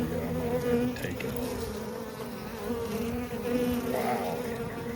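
Thousands of honeybees from a colony cutout buzz in a thick, steady drone close at hand, the pitch wavering slightly as single bees fly near, with no talking.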